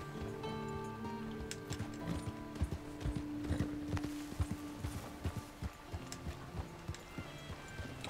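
Horse hooves clip-clop in a steady, uneven walking rhythm through the town of Strawberry in Red Dead Redemption 2, faint and close, with soft tack and gear rattles underneath.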